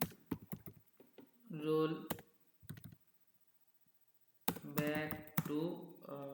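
Computer keyboard typing in a database lesson on rollback statements, quick bursts of clicking keys close by, broken up by someone speaking and a short silent gap.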